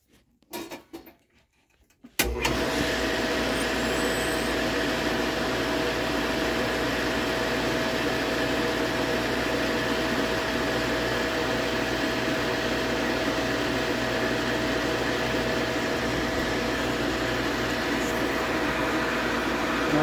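Water booster pump starting after about two seconds of quiet handling, then running steadily with a loud continuous motor hum and broadband whir for the rest of the stretch, with no talk over it.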